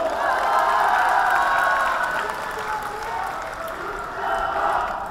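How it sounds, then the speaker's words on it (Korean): Delegates at a party convention's joint candidate speech event applaud and cheer, sustained crowd clapping with vocal cheering blended in, swelling and easing over several seconds. "여러분, 동의하시면 박수를 보내주십시오."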